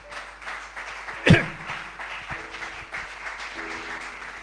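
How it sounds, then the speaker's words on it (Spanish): A church congregation claps for Jesus during a sermon, a short burst of applause with one sharp loud clap near the start, then thinning into scattered claps over faint musical tones. "Dale ese aplauso a Jesús."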